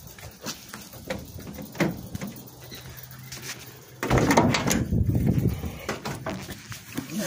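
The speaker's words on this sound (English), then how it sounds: "Oh, maybe if I unlock the door first." Door of an old Dodge van being unlocked and pulled open, a short clunk and rattle followed by a louder burst of handling noise close by, with no talking over it.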